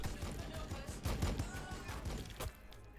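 Blood Angels Aggressors open fire in Warhammer Battlesector, a dense, loud burst of rapid gunfire and impacts lasting a few seconds before cutting off into quieter game ambience.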